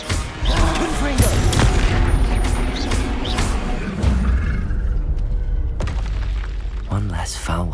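Confringo fire spell explosions in Hogwarts Legacy: heavy booming blasts and crackling bursts that repeat over a dense, continuous battle din, loud throughout, with a voice talking over the combat.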